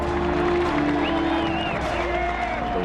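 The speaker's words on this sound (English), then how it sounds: "A little louder cheer." Golf patrons cheer and applaud at Amen Corner, a dense crowd roar with clapping under a voice speaking over it.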